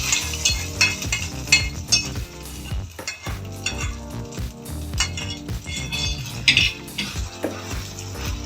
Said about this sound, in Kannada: ಈಗ ಗೋಡಂಬಿ ದ್ರಾಕ್ಷಿನ ತುಪ್ಪದಲ್ಲಿ ಹುರ್ಕೊಂಡು ಇದಕ್ಕೆ ಹಾಕ್ತಾ ಇದ್ದೀನಿ.